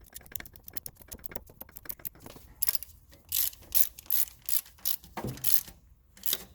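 A hand ratchet tightens the alternator bolt on a 2006 Nissan X-Trail 2.5 L, first with rapid fine clicking and then a series of louder, evenly spaced ratcheting strokes nearby.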